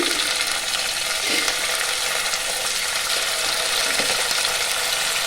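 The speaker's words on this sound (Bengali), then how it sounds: "পেঁয়াজ লাল লাল ভাজা হয়ে গেছে, এখন আমি এর মধ্যে দিয়ে দেব 2 চামচ টমেটো পিউরি।" Tomato puree hits onions already fried until red in a pan, giving a steady close sizzle with faint scraping and stirring clicks, no voices.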